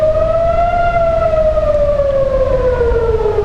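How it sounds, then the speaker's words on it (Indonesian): A loud air raid siren wails continuously in Tel Aviv, its tone slowly rising and then sinking, with no voices present. "suara sirine di Tel Aviv kembali meraung"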